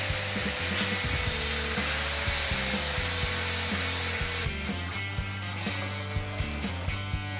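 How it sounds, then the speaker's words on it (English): A power tool whines steadily while scraping and rubbing at laser-cut steel to clear slag and expose bare metal for tack welding, the motor dropping in pitch midway as rhythmic abrasive strokes continue close up. "I'm just removing the slag from the laser so the weld can penetrate."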